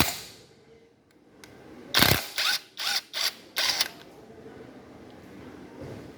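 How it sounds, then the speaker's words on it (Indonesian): A 19 mm socket wrench works on the crankshaft bolt of a K-series OHV engine, giving a run of five close, sharp metallic ratcheting bursts after a short first click, with no talk. "kita terlebih dahulu lepas baut yang ada pada crankshaft ya, menggunakan kunci shock 19."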